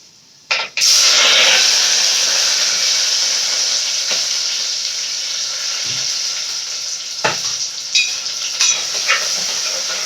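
Onion and green chillies frying in a pan, a steady bright sizzle that flares up loudly at the start and holds evenly, with a few faint clinks of a spoon against the pan.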